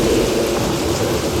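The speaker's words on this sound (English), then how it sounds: "That's how we create our stormy scenes. We locate sprinklers in the trees." Artificial rainstorm from sprinklers mounted in trees, aimed upward over a Universal Studios Hollywood tram in 1986, gives a steady, loud hiss of falling water with a low rumble beneath, continuous and close.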